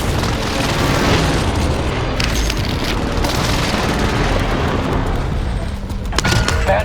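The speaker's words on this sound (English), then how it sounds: "Enemy precision airstrike." Precision airstrike explosions in Call of Duty Warzone on Rebirth Island, a continuous loud roar of heavy booms and rumbling blasts with sharper bursts near the end.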